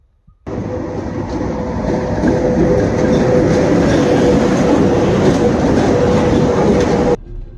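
Train rolling along rails, heard from on board: a loud, steady rumble with rhythmic wheel clatter that starts abruptly, continues for about seven seconds, then cuts off.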